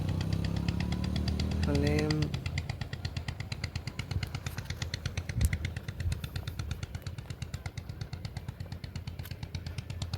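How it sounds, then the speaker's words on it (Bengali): Motor boats running on the lake at Mukutmanipur, Bankura, heard as a steady outboard engine drone with a rapid chugging pulse throughout, after a brief stretch where a person speaks over it. "এখানে বোট চলছে সব।"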